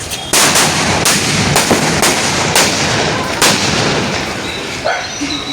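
Firecrackers bursting at a birthday celebration after the fuse is lit, a rapid string of loud, close cracks and bangs running throughout, with a few distinct heavier reports standing out.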